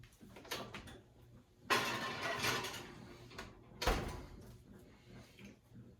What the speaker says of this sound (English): We're going to put it in the oven.